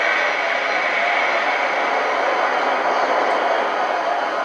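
Continuous broadband roar of a Chicago CTA Red Line rapid transit train in motion, a steady rushing rumble heard from inside or close by, without voices.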